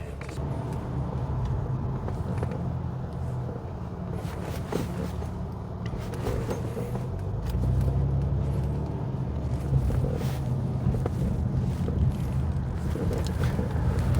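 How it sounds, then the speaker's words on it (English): A 2011 Honda Accord with its VCM disabled is driven through a neighborhood. A steady engine and road rumble runs throughout and grows louder partway through as the car picks up. "just start it up, and I'm just going to take it for a little spin here in the neighborhood."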